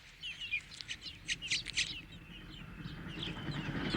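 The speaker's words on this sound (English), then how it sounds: "The hedgerows are haunted by young fledglings, chiefly blackbirds and thrushes." Young fledgling blackbirds and thrushes call from hedgerows in May, a series of thin high chirps and short calls in quick bursts, faint over a low outdoor rumble.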